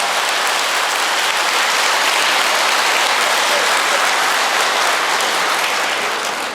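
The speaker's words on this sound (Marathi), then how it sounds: "सगळ्यांनी हात वर, जोरात टाळ्या वाजवायच्या" Dense, loud applause from a large audience clapping hard and continuously for organ donors at a World Kidney Day event, a steady roar of hands with no break from start to finish.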